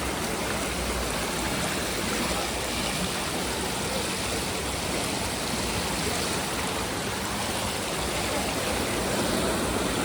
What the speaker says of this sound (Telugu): వాటర్ ఫ్లో కూడా ఉంది.